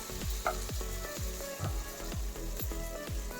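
Rhythmic sizzling and spattering from batter cooking in a hot oiled paniyaram pan, with repeated soft knocks or taps recurring about every half second.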